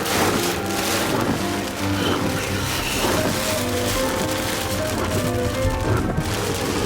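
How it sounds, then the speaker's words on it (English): A loud, continuous wash of heavy rain in New York City with gusty rumbling and wind buffeting the microphone, no voices. "It is absolutely pouring outside."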